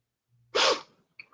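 A single sharp sneeze from one person, close and fairly loud, preceded by a soft intake of breath and followed by faint breathy sounds.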